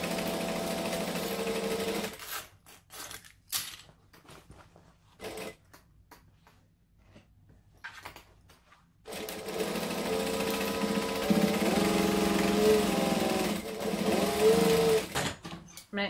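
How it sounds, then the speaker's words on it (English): Sewing machine stitching a seam and backstitching at the end, bursts of rapid mechanical whirring separated by short stops and quiet gaps, then a long continuous run, close up and alone. "Sure, we backstitch at the end. That was possibly a few too many backstitches."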